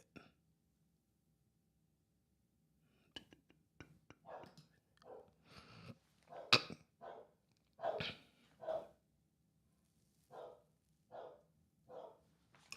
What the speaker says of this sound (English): Hold on, let me let these dogs in real quick.